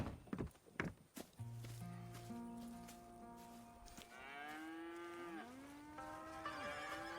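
Cattle in the video game Red Dead Redemption 2 give long, drawn-out moos, starting low and steady and then rising and bending in pitch, heard close and clear after a few footsteps at the start.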